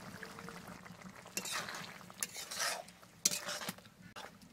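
Garam masala goes into a king snail curry frying in a pan, with a low steady sizzle under several sharp metallic scrapes and clinks of a stirring spoon against the pot, fairly quiet overall.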